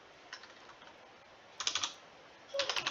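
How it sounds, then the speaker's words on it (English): Soft clicking of keys on a computer keyboard, a few scattered taps followed by two short quick bursts of typing, close and quiet. "Just going to type my name."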